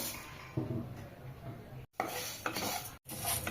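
Dry mung dal being roasted and scraped in a pan on a gas stove, a soft gritty rustle with faint metallic clinks and brief gaps, close and quiet.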